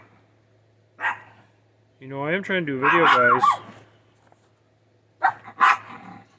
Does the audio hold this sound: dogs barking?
yes